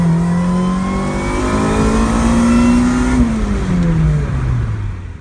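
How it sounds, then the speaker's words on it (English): A supercharged Honda Civic running E85 with a stock engine accelerates hard through the gears, its loud engine note rising steadily, dropping at a shift around the midpoint, then climbing again, close and continuous with no talk. "Put a little clip here of it going through the gears."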